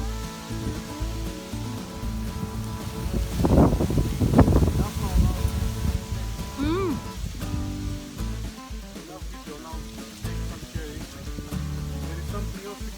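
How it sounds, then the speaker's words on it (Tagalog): Steady wind buffeting the microphone with rustling noise throughout, while people talk intermittently over it, outdoors at a cherry orchard in Macedonia. "It's windy."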